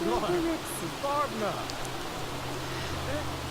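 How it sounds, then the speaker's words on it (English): Steady rain on a wet, stormy street outside a theatre, a soft continuous hiss under someone talking, with a low background hum. "It's very wet and rainy."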